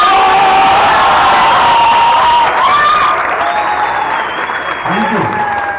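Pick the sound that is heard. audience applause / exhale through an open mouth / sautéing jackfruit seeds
audience applause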